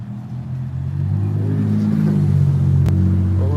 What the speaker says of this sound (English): I hear this other loud car ahead of me at the same time